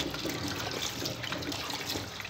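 Water from washed lasoda fruits drains away in a steady, close, continuous splashing rush with no speech over it.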